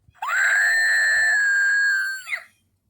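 Screaming Scream toy by Unemployed Philosophers lets out one long, loud, sustained shriek that sweeps up, holds steady and then drops off abruptly at the end.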